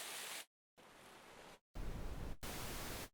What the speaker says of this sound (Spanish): Voy a dejarle el pink noise.